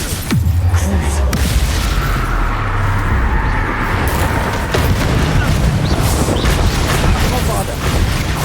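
Bombarda blasting spells in Hogwarts Legacy, heavy booming explosions that go off repeatedly over dense continuous combat noise, with a voice shouting spell names throughout.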